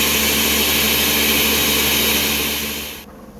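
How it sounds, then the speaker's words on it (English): Blender running on high, whirring loudly as it purees hot, steaming sea moss, a steady roar that holds for about three seconds and then cuts off abruptly, leaving quiet. "I'm gonna cover it and blend it on high until this looks smooth."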